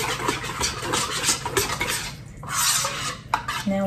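Sweetener and yeast being mixed in a bowl, continuous close scraping and clinking of a utensil against the bowl with short pauses, fairly loud and with no talking.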